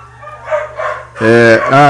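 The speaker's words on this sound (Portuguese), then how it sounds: "as cachorras também enlouquecidas" Female dogs, worked up during a New Year's celebration, break into loud, drawn-out barks and howls close by after a quieter stretch, with the bursts running back to back at the end.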